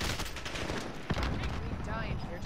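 Dense bursts of automatic gunfire and explosions from Call of Duty: Modern Warfare rattle continuously over several seconds, with sharp louder cracks standing out in the busy mix.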